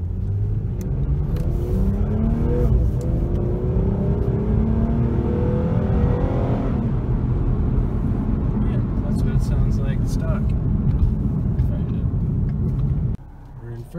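A 2016 Ford Mustang V6 with a Roush cold air intake accelerating hard through the gears in sport mode, a loud rising engine and intake roar heard from inside, with pitch climbing and dropping at shifts before it cuts off near the end.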